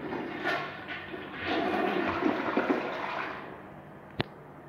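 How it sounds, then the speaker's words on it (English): A 2021 American Standard Cadet Pro toilet flushes with a steady rushing swirl of water that fades after a few seconds, followed by a single sharp click near the end. "here's a flush"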